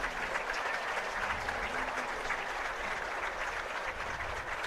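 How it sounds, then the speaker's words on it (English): Steady crowd applause fills the stands at a Mountain Home Bombers vs Farmington Cardinals varsity football game, a dense, continuous patter of many hands clapping at even loudness throughout. "let's give Sheriff Montgomery a round of applause for his service to our community"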